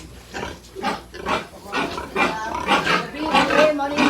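Pigs on a farm grunting in a close, loud series of rough rhythmic grunts and snorts with brief gaps between them, continuing throughout, with no talking.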